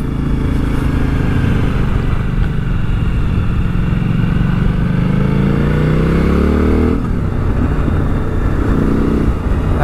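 Motorcycle engine droning steadily while riding, heard from the rider's position through an Arai XD4 helmet in Frost Black, with loud wind rush throughout and a shift in engine pitch near the end as the bike accelerates.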